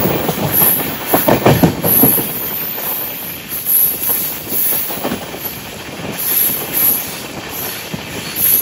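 The Sealdah Puri Duronto Express rolls into Puri station, with a steady rumble of carriages, rhythmic wheel clatter and bursts of high metallic wheel squeal. No voices.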